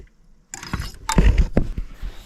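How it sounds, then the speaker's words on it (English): Ratchet wrench levering the serpentine belt tensioner on a 2019 Hyundai Santa Fe, giving a few close, sharp mechanical clicks and clunks as the idler pulley shifts. "I got my ratchet on there, and you can see when I pull up on it that idler moves over"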